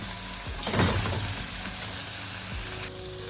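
Shrimp sizzle and crackle as they fry in a hot pan, close and continuous, with a few light clinks of utensils.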